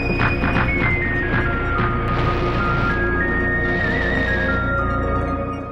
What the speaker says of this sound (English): The Russians send horses in advance to act as sappers and detect the mines